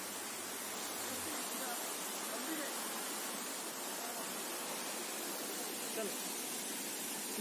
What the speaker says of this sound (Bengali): প্রচণ্ড ঝর্ণার আওয়াজ